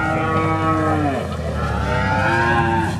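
Sahiwal cattle being unloaded at the Hazratpur cattle market let out a loud, drawn-out moo close by, with more lowing and market murmur behind it.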